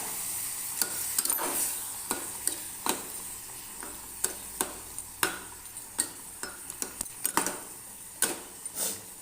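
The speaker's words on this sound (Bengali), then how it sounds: "এই যে মশলা ধোয়া বাটির জলটা এখানে এই পরিমাণ জলটুকু আমি এখানে অ্যাড করে দেবো" Water poured into a vegetarian papaya and potato curry in the pan brings a soft sizzle, punctuated by repeated sharp clicks of a spoon stirring against the pot, quiet and close with no talking.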